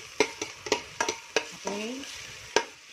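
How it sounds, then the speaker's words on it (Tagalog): Food frying in a pan for sizzling mackerel scad with crispy tofu is stirred, giving several sharp utensil scrapes and clacks over a steady close sizzle, with a brief voice-like tonal sound midway. "So, haluin po natin ang haluin."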